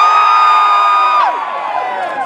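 Audience at a live costume-themed show cheering, loud sustained whoops and shouts that fade slightly toward the end.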